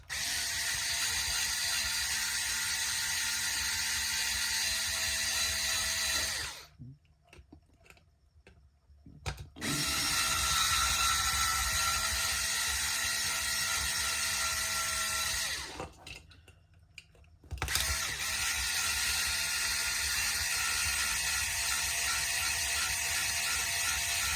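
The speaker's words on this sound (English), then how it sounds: "I'm gonna drill for a second." Long bursts of loud, steady mechanical whirring from a power drill, broken by two short pauses, with no voices.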